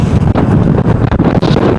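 Strong wind roars loudly against the microphone during a bike ride, a continuous heavy buffeting with rapid gusty fluctuations throughout.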